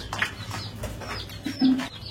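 Soft, low cooing from a pigeon, a couple of short murmuring calls close by with light rustling around them.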